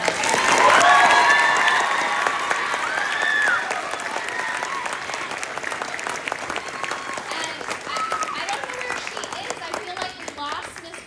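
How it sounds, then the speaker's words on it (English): Audience applause at a school spring concert for sixth and eighth graders, loud and dense at first, then thinning to a steady patter of clapping with some crowd murmur. "So please give Miss Vendetti a huge round of applause."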